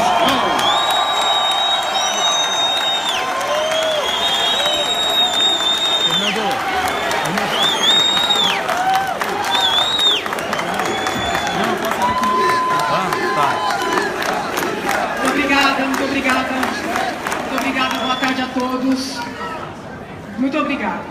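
A political party convention crowd cheers and applauds loudly and steadily, with whistles, shouts and chanting voices rising over a dense roar, near and sustained throughout before easing slightly at the end.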